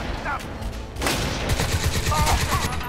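Dense bursts of rapid gunfire from the video game Crysis 2, a loud running fusillade that grows heavier after the first second, with a voice speaking over part of it.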